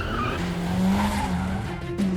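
A car drifting on a test track, its engine droning while the tires squeal and skid, a sustained screech that wavers and swells in bursts, loud and near, with no speech.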